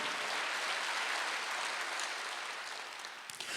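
A church congregation at a Wednesday worship service claps together, a soft, steady wash of many hands heard at a distance that gradually thins and fades toward the end.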